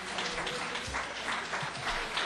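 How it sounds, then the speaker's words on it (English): Audience applause at a CUNY Board of Trustees meeting: steady, dense clapping from a crowd, moderately loud and continuous throughout, with no talk over it. "I will ask you to be removed if you continue to clap"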